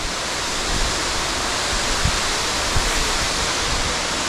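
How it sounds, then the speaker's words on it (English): A 280-foot waterfall deep inside a river cave produces a loud, steady, roaring rush of falling water that fills the space continuously, with no talk over it. "there's a waterfall"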